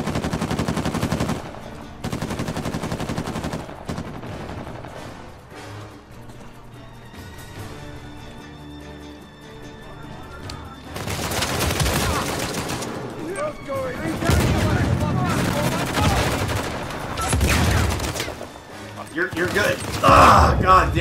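Gunfire crackles in an Uncharted multiplayer match as a shotgun and other weapons fire in loud, rapid bursts separated by quieter stretches, with players talking over the action.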